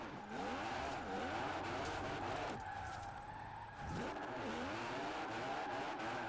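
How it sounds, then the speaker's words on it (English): Strained, oddly droning drift car engine in Forza Horizon 4, a tuned drift car losing power, revving and wavering continuously with loud tire skid noise, brief dip before picking back up. "This engine sounds super weird, dude."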